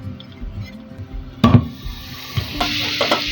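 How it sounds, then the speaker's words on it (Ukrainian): About 150 grams of butter drop into a heated frying pan with a sudden clatter and burst of sizzle, then settle into a soft, steady crackling hiss as it melts. "на розігріту пательню кладемо 150 грамів масла"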